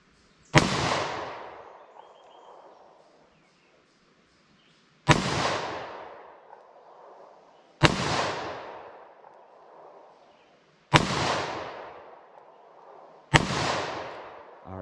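Five loud, sharp gunshots from a short-barrel 9mm and .38 Special revolver fired outdoors, spaced a few seconds apart, each with a ringing echo that fades slowly.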